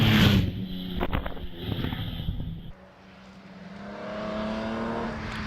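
A much-modified Jaguar E-Type 4.2 litre straight-six racing engine at a hillclimb roars loudly at first, cuts away abruptly, then a distant engine note rises gradually and steadily.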